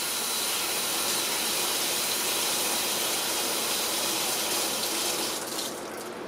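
Running water from a tap pours steadily over Singer 306 sewing machine motor parts being washed, a loud continuous hiss that eases slightly near the end.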